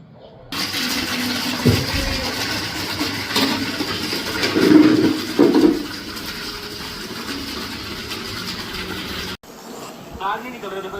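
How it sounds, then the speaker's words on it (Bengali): Water runs from a household tap into buckets, a steady loud rushing stream that holds for several seconds before stopping abruptly, with a voice briefly audible. "জল আইব, এগুলা সব বালতি ভরবো।"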